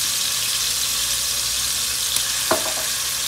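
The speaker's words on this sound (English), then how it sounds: "To my oil, I'm going to add some Epis, and I also like to add garlic." Haitian epis and fresh minced garlic frying in oil, a loud, steady close sizzle with a single brief clink near the end.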